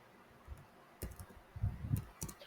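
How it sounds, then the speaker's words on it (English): Clicking on a computer keyboard while a name is entered, a few quiet, scattered keystrokes with short bursts of quick taps, fairly close and without talk. "then you're gonna type your name"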